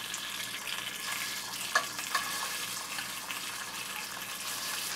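Potstickers frying in hot oil in a pan, a steady close hiss of sizzling with a couple of brief sharp pops, no talking.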